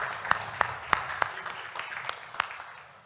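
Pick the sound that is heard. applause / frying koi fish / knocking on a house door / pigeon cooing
applause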